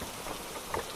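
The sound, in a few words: rain falling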